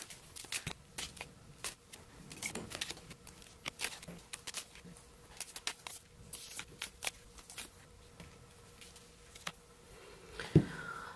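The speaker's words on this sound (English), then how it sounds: "I'm going to throw these cards down and then we will get started." Tarot cards being shuffled, with a steady run of soft, quick riffling and patting taps, and a few sharper slaps as the cards are set down, all fairly quiet and close.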